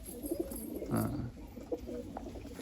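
A Madrasi pigeon coos in a loft, a low, throaty burst near the middle and softer murmurs around it at close range, with faint background noise.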